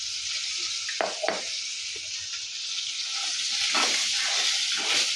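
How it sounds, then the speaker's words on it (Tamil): Eggplant sautéing in oil in a pan with salt and turmeric, a continuous bright sizzle with a few spatula scrapes and knocks, close and without voices. "கத்திரிக்காய்க்கு உப்பு சேர்த்து வதக்கலாம்."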